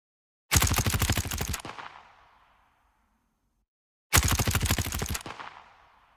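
A designed Modern Warfare-style gunshot sound effect: two loud bursts of rapid automatic fire, each lasting about a second, separated by silence, each trailing off into a long fading tail.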